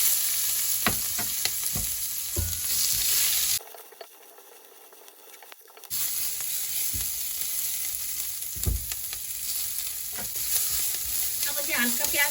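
Onion frying in a pan for a dry meat curry, a loud continuous close sizzle with stirring scrapes, dropping out briefly before the hiss and crackle resume.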